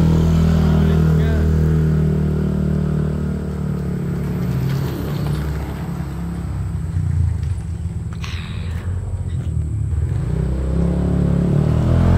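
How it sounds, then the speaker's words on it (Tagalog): A loud, close engine rumble like a motorcycle idling and revving, low and continuous, with some clatter and faint voices mixed in. "Gagi, Andre, parang motor."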